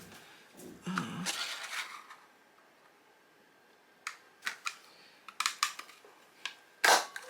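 Scissors cutting a 2.5 inch circle from patterned scrapbook paper: a short run of rustling at first, a quiet pause, then a series of close, crisp snips and clicks ending in one louder snap.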